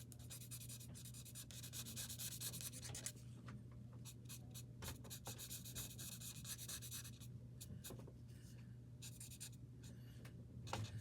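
A marker or pencil scratches back and forth across a sketchbook page while coloring in, producing a soft, continuous close rubbing with quick stroke bursts and brief pauses.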